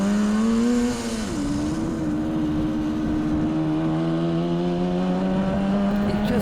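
A 1967 Yamaha YL1-E Twin Jet 100 two-stroke motorcycle on the move, its engine droning steadily with a buzzy, harmonic-rich tone that dips briefly as it shifts, then settles into an even cruise close by.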